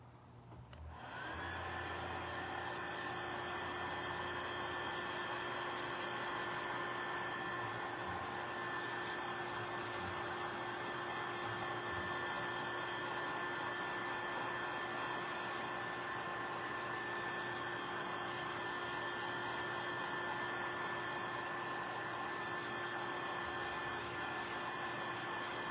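A hair dryer blows steadily on a layered Valentine paper craft, switching on with a rising whine and then holding a constant loud whirr with a tonal hum for the whole stretch, with no talking.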